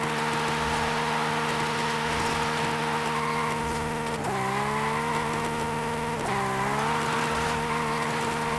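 Interior view of a Toyota Supra engine in Forza Horizon 5, a steady loud buzzing drone with strong harmonics that dips and rises in pitch twice as gears shift, heard alone without talk.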